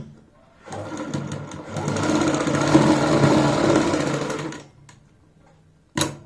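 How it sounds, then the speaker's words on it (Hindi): Sewing machine runs steadily for about four seconds while stitching a palazzo pant, a close, continuous whirring hum. It starts and stops cleanly, with a short burst of running near the end. "तो यहां से हम सिलाई की शुरुआत करेंगे।"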